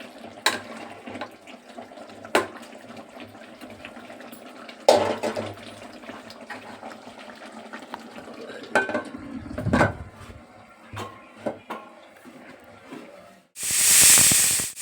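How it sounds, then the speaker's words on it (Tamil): A pressure cooker holding chilli chicken clatters and bubbles with scattered metallic knocks, then lets out a loud, sustained hissing whistle of steam near the end. "இப்போ 2 விசில் விடலாம்."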